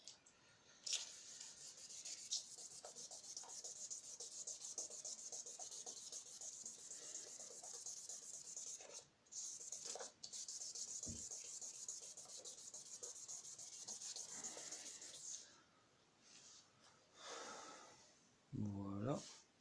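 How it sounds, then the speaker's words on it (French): Steady, close rubbing of 500-grit sandpaper worked by hand across a PT Cruiser headlight, continuing for most of the stretch with brief pauses, and a voice speaking near the end. "la couche de ponçage c'est le 500"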